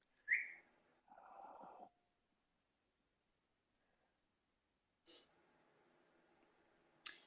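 A person whistles to call a dog: a short sharp whistle, a breathy burst, then quiet, followed by two more brief whistles, close and fairly faint in a quiet room.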